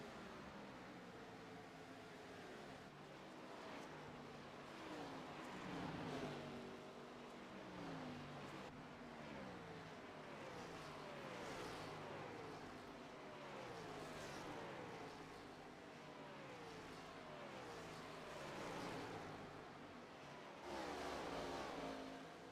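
Stock race cars in an All-American Cup Series race at the Nashville track roar past in a continuous, somewhat distant drone, with engine pitch rising and falling as cars accelerate through the turns.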